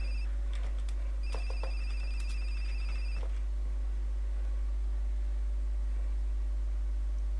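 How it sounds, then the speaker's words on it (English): A telephone rings in a video game, several short electronic ring bursts close together over a steady low hum, then fading to just the background drone. "Oh, phone call."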